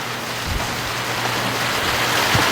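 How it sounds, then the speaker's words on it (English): Heavy rain pours down on a duck farm, making a dense, loud, continuous hiss with a few low thumps and no voices. "But look at them, like it's just pouring rain"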